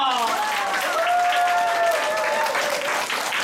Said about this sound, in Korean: 지금부터 박수 시작!